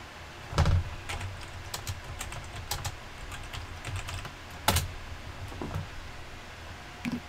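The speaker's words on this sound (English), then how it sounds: "I'm going to type netstop spooler" Close computer keyboard typing while a Windows command is entered, with a scattering of separate key clicks and two louder, sharper presses standing out over quiet room background.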